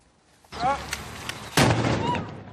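A single loud cannon blast booms out on the Philadelphia Boulevard beside the Vistula in Toruń, at a riverside event. Talk comes first, then the sharp report, which leaves a lingering, noisy echo behind it.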